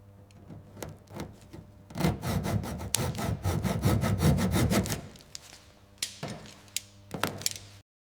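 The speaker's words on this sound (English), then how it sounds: "Listen to those clips pop." Chrome trim being pried off a 1958 Austin A40 Farina, with close scraping and rubbing followed by several sharp snaps as the plastic clips pop loose, loudest in the middle and tapering into scattered clicks.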